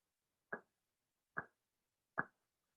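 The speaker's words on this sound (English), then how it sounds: "That is the sound of snapping." Three crisp finger snaps ring out alone, evenly spaced almost a second apart, each short and dry and fairly quiet.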